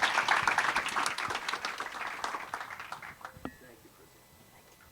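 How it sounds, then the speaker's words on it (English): An audience at a clean-energy climate event claps for honored climate champions, the applause loud at first and then fading over a few seconds while voices carry on. "can you please give a big round of applause to these amazing champions for our climate"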